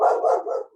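A dog gives a single loud, close bark with a short follow-on yelp, heard on its own with no talking over it.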